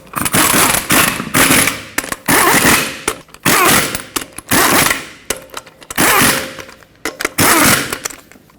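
Impact wrench on the six wheel lug nuts of a 2003-2012 Chevrolet Colorado 4x4, loud and close: about eight rattling hammering bursts, each roughly half a second long, with short gaps between them.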